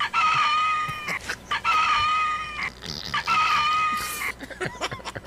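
Chickens cluck and a rooster crows repeatedly in loud, close calls, three strong crowing phrases rising over a busy farmyard backdrop of squawks and clucks.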